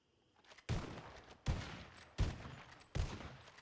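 Four loud, sharp gunshots from a roleplay video game, fired one at a time at roughly even intervals of about three-quarters of a second, each with a brief trailing decay and no talk over them.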